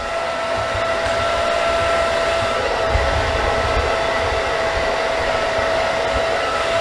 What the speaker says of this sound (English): always make sure that you're pointing the blow dryer away from that client